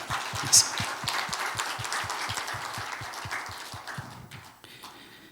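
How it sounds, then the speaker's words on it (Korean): A church congregation at a Sunday service claps in welcome, a fairly steady, rhythmic clapping with a sharp accent near the start, fading out toward the end. "다시 한번 박수로 환영합니다"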